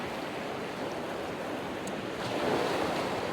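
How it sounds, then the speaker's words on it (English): Ocean waves roll in on a shore in a continuous, steady wash of surf, swelling slightly louder toward the end, with wind noise mixed in and no voices. "I'm just enjoying some waves coming in before we end."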